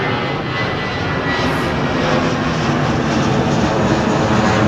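A Boeing 787 Dreamliner departs Heathrow for Delhi, its jet engines giving a loud, steady, close roar that holds through the whole stretch with no voices over it.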